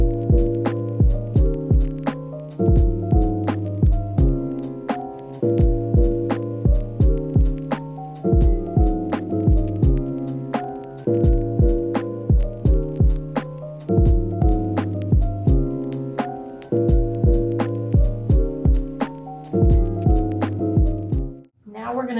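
A home sewing machine stitches around the outer edge of a Peter Pan collar at a quarter-inch seam allowance, running as a steady loud rhythmic hum with regular mechanical thumps, nearly continuous and without speech, stopping abruptly at the end.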